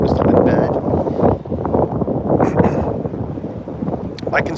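Gusty wind buffets the microphone on a dock at a town boat ramp, a broad, steady low rumble that persists throughout, with faint voices mixed in.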